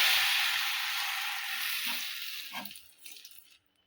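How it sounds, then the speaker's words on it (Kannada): Water poured into a hot pan of sugar for rava laddu syrup bursts into a loud hiss and sizzle that gradually fades. A few stirring knocks follow before it falls quiet. "ಈಗ ನೀರು ಹಾಕ್ತೀನಿ ನೋಡ್ರಿ ಅದಕ್ಕೆ"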